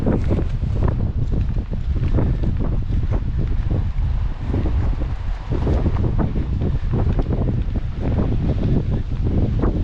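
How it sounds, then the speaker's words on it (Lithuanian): Strong, steady seaside wind roaring and buffeting the microphone throughout, with constant low rumbling gusts and no voices. "Vėjas pasikelis."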